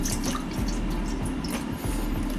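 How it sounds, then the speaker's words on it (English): Milk being poured into a pan, a continuous close liquid splashing and trickling that runs for the full few seconds with no one speaking. "I'm going to put some milk in the pan and soak them."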